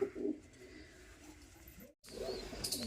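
Pigeons in their coop give soft, low cooing calls that sound faint and close, with a brief silent break partway through and a few more coos after it.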